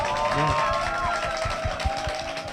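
A church audience claps for a theatre troupe, with rhythmic claps and crowd noise under a held musical tone and some voices, at moderate loudness.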